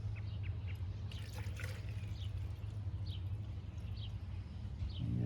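Filtered, recycled coolant trickles faintly with a thin watery dribble and scattered soft drips over a steady low hum.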